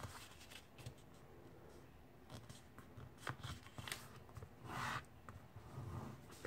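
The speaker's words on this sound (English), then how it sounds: "fold this to the center crease" A sheet of paper is folded to the center crease for a paper airplane. Soft crinkles and brief rustles come up close and quiet, with a longer swish near the end.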